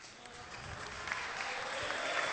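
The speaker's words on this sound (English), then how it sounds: "Crowd getting behind Palmer now a little bit." Spectators at the 2006 Windy City Open squash final applaud for Palmer, a steady wash of clapping that builds slightly in loudness over a couple of seconds.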